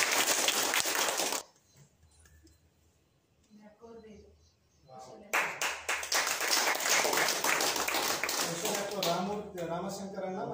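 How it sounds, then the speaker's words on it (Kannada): Audience clapping loudly for Bindu akka at a 2022 Environment Day celebration, two dense bursts of applause split by a quieter gap with a few voices; talk mingles with the later stretch. "ಬಿಂದುವಕ್ಕವರಿಗೆ ಜೋರಾಗಿ ಚಪ್ಪಾಳೆ ತಟ್ಟಿ."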